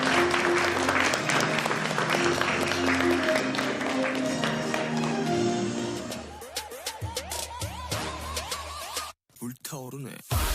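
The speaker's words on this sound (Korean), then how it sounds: "모두 자리에서 일어나 큰 박수로 맞이해 주시기 바랍니다" An audience at a Korea–US vaccine cooperation agreement signing ceremony stands and applauds as South Korean President Moon Jae-in enters; loud sustained clapping fills the first several seconds over music, then thins out amid other sounds.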